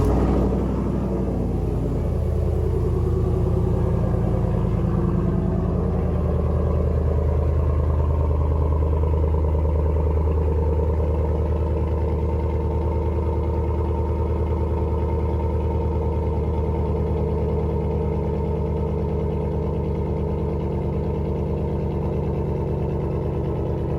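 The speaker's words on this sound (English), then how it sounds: "I'm gonna get a cold start real quick so we can get a before and after." Lifted 2007–2013 Chevy Silverado fitted with a BTR Truck Norris cam fires up from cold, cranking briefly before settling into a loud, steady, deep rumbling idle close to the microphone.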